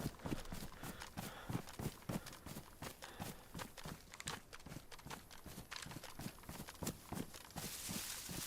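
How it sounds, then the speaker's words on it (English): A cow plods along in the survival video game DayZ, its hooves making a steady, rhythmic series of soft clopping steps that stay faint and continuous throughout. "Oh, it's a cow. I thought I heard something."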